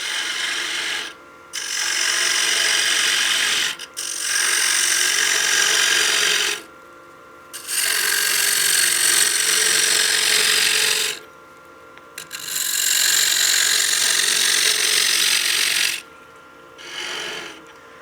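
A wood lathe scrapes inside a turned utility box in repeated bursts of a few seconds each, a bright rasping hiss that cuts off between passes, close and loud, with no voices.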